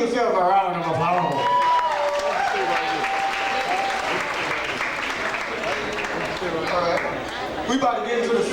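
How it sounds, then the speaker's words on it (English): A poetry show crowd at a Soul Fusion anniversary event gives sustained, loud applause with scattered whoops and chatter, a steady wash of clapping filling the room. "Give yourselves a round of applause."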